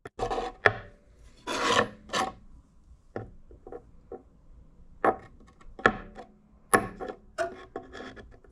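A piece of wood being cut in half by hand while making a screw clamp: close, rough rasping strokes come in irregular bursts with short pauses between them, and no talking.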